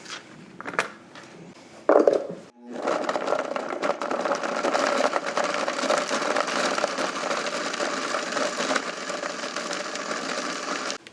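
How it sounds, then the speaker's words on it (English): A kitchen blender grinding Parmesan cheese into fine breadcrumbs, a loud steady motor whir with rattling that runs continuously for several seconds after a brief start-up. "I'm gonna throw this in the blender so that we can have some Parmesan cheese breadcrumbs."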